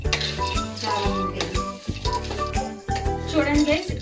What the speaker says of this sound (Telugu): పల్లీలు అనేది ద్వారగా వేపుకొని గోల్డెన్ కలర్ వచ్చేదాకా కూడా వెయిట్ చేయాలండి